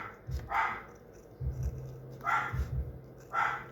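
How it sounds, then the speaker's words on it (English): A miniature pinscher barks in short, sharp bursts, three clusters spaced about a second apart, close by and fairly loud with a low background rumble. "he barks. He's a min pin, so he's very protective."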